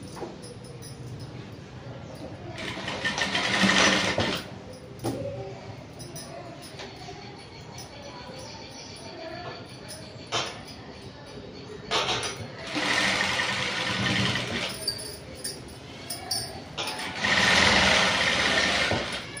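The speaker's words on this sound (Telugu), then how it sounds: "ఇప్పుడు ఒక కుట్టేసేయండి" An electric sewing machine stitches a princess cut blouse at a tailoring table. It runs in several loud bursts of rapid whirring, separated by quieter pauses with faint handling noise.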